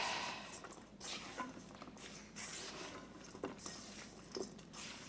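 Grilled whole okra tossed with salt and green onion in a bowl, soft repeated rustles and light clinks of the bowl coming in uneven strokes, fairly quiet and close.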